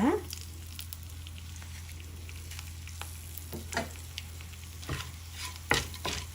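Fenugreek and cumin seeds with coriander fry softly in oil, a quiet sizzle under a low steady hum, with occasional scraping stirs and small clinks of a spoon against the pan.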